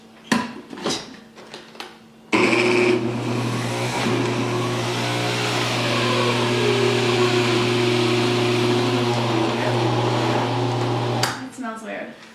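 A juicer motor runs steadily with a strong hum and whine for about nine seconds, straining until it burns out, then cuts off abruptly; people talk briefly before it starts and after it stops.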